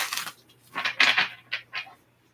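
Tarot cards are shuffled up close in several crisp, papery bursts with short gaps between them, and no voices over them.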